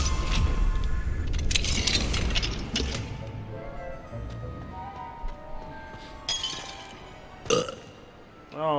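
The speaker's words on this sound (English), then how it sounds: "Oh, stop burping, man." A long, loud belch rumbles at the start during Hogwarts Legacy gameplay, followed by fainter clinking, ratcheting game sounds and a few sharp knocks, with no talking.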